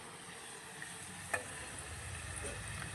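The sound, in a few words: potatoes frying in oil on a clay stove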